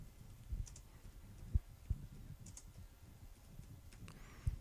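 Typing on a computer keyboard, a few sparse faint key clicks and taps spaced irregularly in a quiet room.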